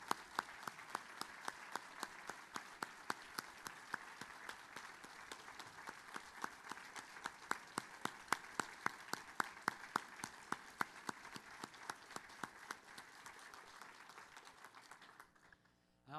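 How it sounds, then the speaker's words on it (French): An audience at a Longueuil municipal party gathering applauds Mayor Claude Gladu, with dense, steady clapping that carries on for about sixteen seconds before stopping abruptly. "On l'applaudit, s'il vous plaît."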